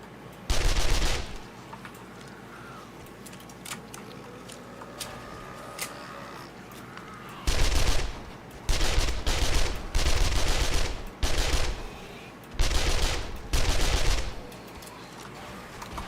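Automatic gunfire from 7 Days to Die comes in several loud, sharp bursts of rapid shots, separated by quieter stretches of ambient game noise and scattered single cracks.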